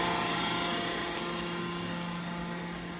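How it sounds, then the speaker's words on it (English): A Mazak VCN410B vertical machining center's spindle runs steadily, a loud, even mechanical whine and hum that holds for several seconds, with a higher hiss easing off early on. "fire up the spindle maybe, and see how it sounds"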